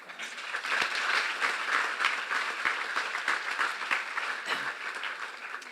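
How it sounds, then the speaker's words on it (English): Audience applause at a volunteer award ceremony: a sustained, even wash of many hands clapping, steady and fairly loud throughout, with no one speaking over it. "Let's give them a round of applause."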